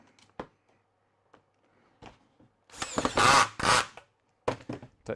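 Close power-driver whir driving the last screw while fitting hinges on a woodworking piece, a short loud burst of about a second plus a brief second spurt, surrounded by scattered clicks and knocks.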